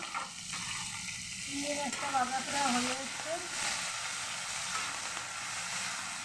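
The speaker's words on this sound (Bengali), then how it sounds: "একটু ভালো করে লাল লাল করে ভেজে নিতে হবে" Prawns fry in a pan with a soft, steady sizzle at moderate distance, while a voice speaks briefly over it.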